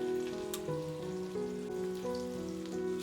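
Chopped onion dropped into hot white oil for aloo pulao, a soft steady sizzle under a sustained background melody, no talking.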